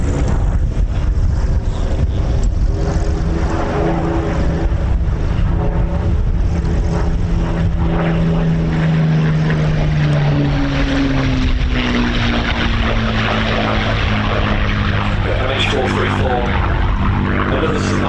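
A Supermarine Spitfire, MH434, flies over the Old Buckenham airshow, its propeller engine droning loud and close with a wavering, shifting pitch as it passes, mixed with wind buffeting.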